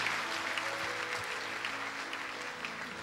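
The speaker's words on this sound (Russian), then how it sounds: "Наши аплодисменты еще раз для вас." A church congregation applauds in a steady, dense wash of clapping that holds at an even level throughout, heard from within the room, with no voices standing out.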